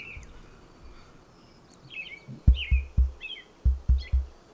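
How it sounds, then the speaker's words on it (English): Swainson's thrushes and song sparrows chirp and trill in a springtime dawn chorus in an urban forest, several short calls in succession, with a few low, dull thumps nearby. "The springtime dawn chorus of Swainson's thrushes and song sparrows"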